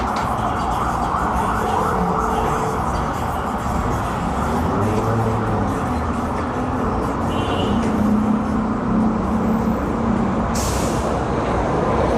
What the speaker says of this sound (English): That ambulance just drove completely on the wrong side of the road